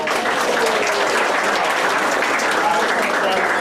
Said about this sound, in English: Let's give a round of applause to Ann Go.